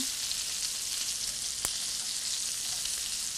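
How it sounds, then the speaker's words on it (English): Turkey meatballs fry in hot oil with a steady, dense crackling sizzle throughout, close and even, with one sharp pop of spitting oil partway through. "Be careful, the oil is hot and it can spit at you a little bit."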